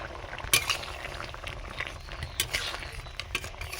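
Crab and potato curry, thickened with roasted rice powder, bubbles in a pot with irregular pops and soft liquid gurgles plus a few faint utensil clinks, close and fairly quiet, no talking.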